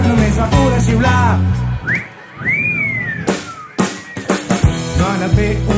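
A performer whistles a rising-and-falling melodic phrase during a live cabaret song, set between sung lines and full band accompaniment, loud and close.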